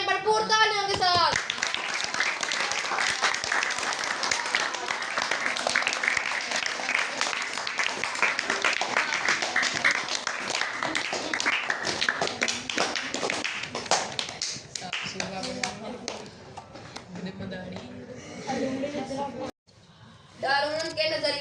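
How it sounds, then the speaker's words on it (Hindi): Audience applause and clapping greet a poet coming on stage at a mushaira, a sustained dense wash of claps from a sizable crowd that thins out toward the end. "मैं अपने अगले शायर वहाब को दावत देता हूँ, वो स्टेज पर आए भरपूर तालियों के साथ।"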